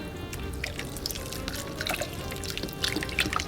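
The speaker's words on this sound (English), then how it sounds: "So I'm going to go ahead and add the rest of this bone broth" Bone broth pours onto quinoa toasting in a pan, with a steady liquid trickle and scattered drips and sizzles heard up close throughout.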